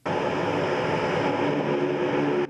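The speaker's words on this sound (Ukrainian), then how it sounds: "На борту літака близько 5 тисяч тонн вантажу." Cargo airplane carrying humanitarian aid from Lithuania, heard as a loud, steady engine roar with a droning tone throughout, cutting off abruptly near the end.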